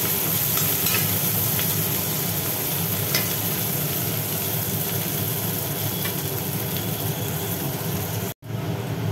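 Onions sizzle steadily in hot oil in a pan as they are stirred, a constant close hiss with faint scraping, running almost unbroken to the end.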